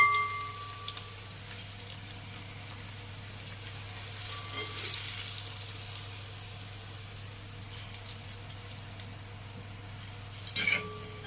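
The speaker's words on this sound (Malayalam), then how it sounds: "എണ്ണയ്ക്കകത്ത് തിളക്കിട്ട് നല്ലപോലെ ഫ്രൈ ആയി." Ivy gourd fries in hot oil with a steady, fairly quiet bubbling sizzle that runs unbroken throughout, with a brief clatter near the end.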